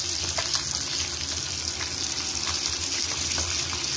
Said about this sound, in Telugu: ఇప్పుడు రెండు వైపులా బాగా ఫ్రై అయిపోయాయండి.